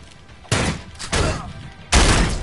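Gunfire in the video game Elex II: three loud, sharp broadband blasts, each followed by a brief decaying tail, spaced irregularly across the moment, with no voices over them.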